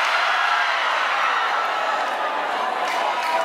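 Flamengo supporters roar as a steady, dense crowd noise from a mass gathering at a lambasaia show, a continuous wash of cheering voices with no distinct breaks.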